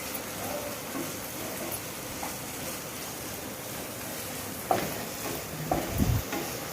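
Tomatoes sautéing with mint and coriander in a pan for mushroom biryani, a steady low sizzle with stirring scrapes throughout and a couple of louder spoon clatters near the end.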